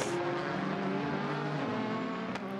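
Ford GT race car with a 3.5 litre EcoBoost engine during a 6 Hours of Nürburgring endurance race, a steady distant engine drone with faint tyre noise, moderately quiet and heard alone without commentary.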